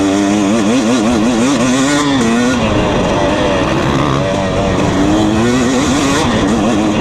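Revving two-stroke engine of a 2020 KTM 250 SX dirt bike on a riding track, loud and close, with the pitch rising and falling continuously as the throttle is worked.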